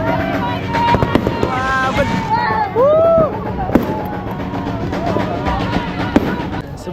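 Fireworks bang and crackle in a steady stream of bursts at a street celebration, with sharp loud reports and whistling rising tones over crowd noise, and one excited voice calling out.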